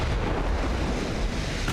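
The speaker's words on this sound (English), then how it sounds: "And we scored a torpedo hit." A torpedo striking a warship in the naval strategy game Ultimate Admiral: Dreadnoughts, set in 1902, gives a deep, sustained rumbling boom that fills the low end steadily with no break, heard alone.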